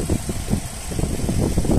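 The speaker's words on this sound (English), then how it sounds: "engine sound nice and smooth" A 2.0 Zetec petrol engine in a Ford C-Max automatic MPV idles steadily, a smooth, even low rumble heard up close and alone, with no talking.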